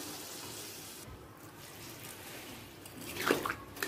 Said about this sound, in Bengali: এরপর দিয়ে দেব পরিমাণ মতো গরম জল